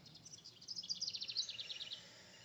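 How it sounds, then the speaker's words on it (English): Birds sing a run of quick, bright chirps and trills that rise out of a quiet outdoor background, loudest in the middle and then fading. The song is fairly soft and alone, with no talking. "Listen to the birds."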